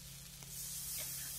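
Tomatoes go into a pan of kakoda (spiny gourd) vegetable cooking on the stove, producing a steady, close hiss and spray-like sizzle that swells slightly midway and holds on without talk.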